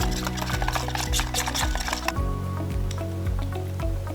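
A spoon stirs a heavy dose of orange blossom honey into a sriracha marinade for wild turkey breast, giving soft, wet, repeated squishing strokes in a steady rhythm with music playing underneath.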